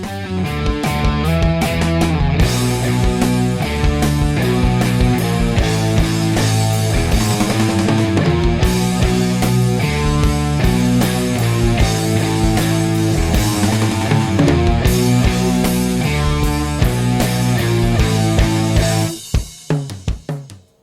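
Electric guitar plays a bridge riff on its own, loud and heavily distorted, with a steady run of single notes for about eighteen seconds before it cuts off and rings out.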